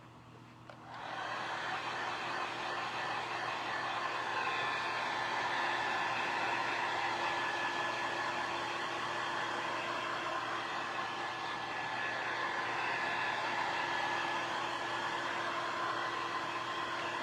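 Hair dryer blowing steadily on a freshly painted coat of a DIY Christmas wreath, switching on after a second and running at a constant close whir with no talk.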